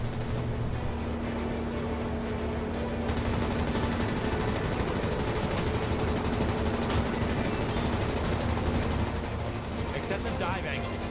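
Aircraft guns fire at ground targets in the World of Warplanes video game, a steady dense rattle of gunfire over a droning engine, loud and continuous throughout.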